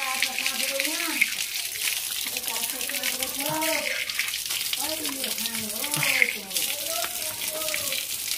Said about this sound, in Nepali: फेरि तातो पानी आयो अरू झन् तातो भयो